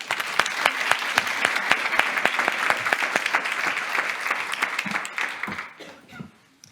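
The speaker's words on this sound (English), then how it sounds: "We'll give her a round of applause." Dense audience applause at a Marketing Liverpool partners' event, many hands clapping steadily and loudly for several seconds before thinning out and fading near the end.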